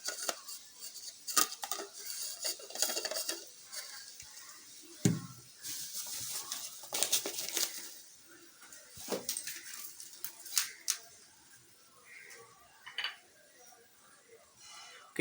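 Plastic parts of a small USB-powered portable juicer being fitted back together, with scattered light clicks, taps and knocks of varying strength in a quiet room.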